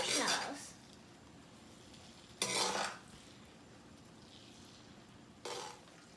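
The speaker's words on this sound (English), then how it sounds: "now let's mix the marshmallows" Spoon stirring melted marshmallows in a bowl for snowflake crisps, with three short scraping bursts separated by quiet pauses, fairly close.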